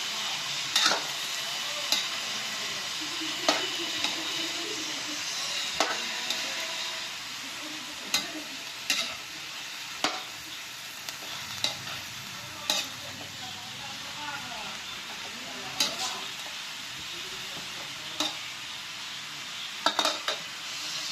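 Carrots and cabbage cook for soup in a pot, with a steady sizzle and hiss under sharp periodic clinks of a utensil stirring against the metal, close by and fairly loud.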